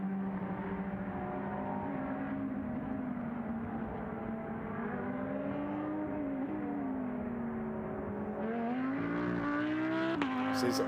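DTM race car running down the Mistral straight at Paul Ricard, a continuous engine drone that rises and falls in pitch as it accelerates and shifts, heard steadily from a distance beneath a commentator's voice.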